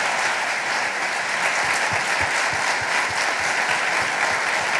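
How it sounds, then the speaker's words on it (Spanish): Sustained applause from an audience at an Erasmus+ annual outreach conference for teachers and trainers, a dense, even wash of many clapping hands that holds steady throughout, with no voices over it. "quiero pedir a todos un aplauso para ellos y para la gente que representan ellos"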